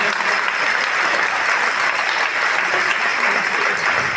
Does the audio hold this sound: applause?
yes